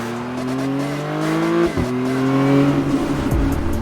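A McLaren Artura drives hard around the Silverstone race track, its engine note holding steady then shifting sharply through gear changes, loud and close with a continuous mechanical drone.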